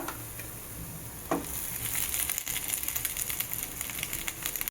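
Rice being stirred with green mango in a hot pan, a steady sizzle with soft scraping and occasional ticks close by, no voices.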